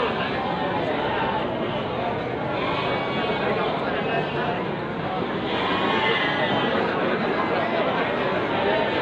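Goats bleat amid the busy bustle of the Muntilan livestock market, their calls mixed into a dense, continuous crowd murmur with people talking close by.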